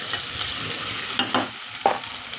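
Chopped onion fries with a pinch of asafoetida in a pan. A loud, steady sizzle runs throughout, broken by a few sharp scrapes and clinks of a spoon stirring against the metal.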